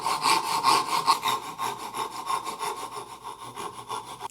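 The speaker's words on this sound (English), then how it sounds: "It makes it less likely that I'm going to bite into this knife line here as I'm sawing downwards" A narrow-kerf hand saw cuts a wooden dovetail in steady, close back-and-forth rasping strokes, each pass rising and falling in a regular rhythm with no talk over it.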